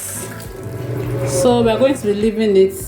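Water rushes steadily into a Hisense Bubble Clean 8 kg top-loading washing machine as it fills, a constant splashing flow heard close by while a person talks over it.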